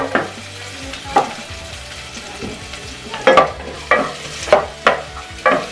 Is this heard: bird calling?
no